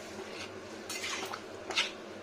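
Green jackfruit curry being stirred in an iron wok: a few soft scrapes and clinks of the spoon against the metal pan, quiet and close, with one sharper knock near the end.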